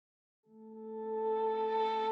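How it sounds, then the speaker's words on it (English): A slow Stradivari violin sample opens an electronic track, a single sustained bowed note swelling gradually from quiet, bright and alone with no voices. "like with the same violin just for the intro and some other elements"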